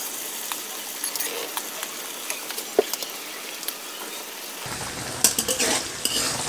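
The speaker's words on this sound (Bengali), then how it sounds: "মটরশুঁটিটা দিয়ে হালকা ভেজে নেব।" Green peas and carrots frying in a pan, a light sizzle with scattered spoon clicks against the metal, then a brief busier stretch of stirring and clatter near the end.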